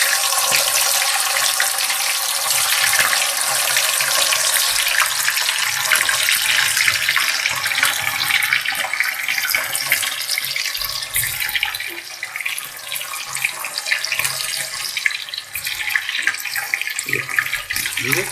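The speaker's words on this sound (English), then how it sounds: "we're gonna fry our paneer one by one like that" Paneer pieces frying one at a time in very hot oil for mattar paneer, giving a loud, steady, dense sizzle that runs continuously throughout without any talking.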